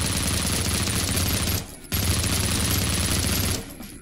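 Gunfire in the retro first-person shooter Project Warlock: a dense, continuous barrage of rapid shots under busy game sound, loud and steady, broken by two brief dips where the firing stops.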